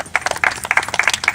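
A small audience claps in quick, uneven bursts, close and fairly loud, briefly and without any voices.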